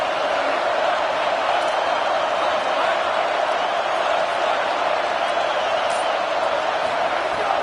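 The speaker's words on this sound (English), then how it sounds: "Now this home crowd making life difficult." A home crowd at a football game keeps up a steady, dense roar that stays loud and unbroken throughout.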